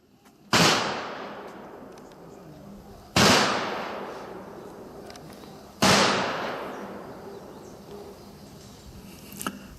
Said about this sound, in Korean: 조총은 3회 발사됩니다. 조총 소리에 놀라지 않도록 유의해 주시기 바랍니다.